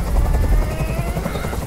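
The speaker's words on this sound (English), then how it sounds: "I can't stand that noise anymore! Tell that helicopter to get out of here!" Helicopter in the game Detroit: Become Human, a steady low rotor thump and whir droning continuously, close and fairly loud, with no voices.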